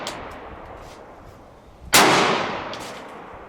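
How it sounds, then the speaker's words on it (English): A single sharp report from a Rock Island Armory 22 TCM 1911 pistol fired at night cracks out loudly and then rings off into a lingering decay, with faint ambient noise before it and no talking. "once you shoot that 22 TCM, you're going to be hooked"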